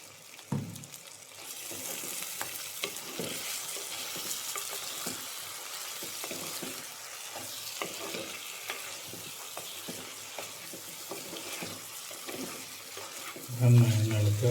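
Roast being stirred and fried in a pan with salt and green chillies, a steady close sizzle with intermittent scraping stir strokes throughout, rising slightly louder near the end.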